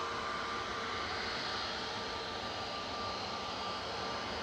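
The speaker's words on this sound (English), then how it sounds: "Jet2's going." A Jet2 airliner takes off at Manchester Airport, its jet engines producing a steady, moderately distant roar that holds throughout with no talk.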